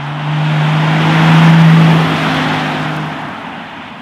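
A powerful V12 engine in a 2024 Rolls-Royce Cullinan SUV tuned to 707 hp drones and swells as it accelerates, its deep hum peaking midway and then easing off slightly; no voices.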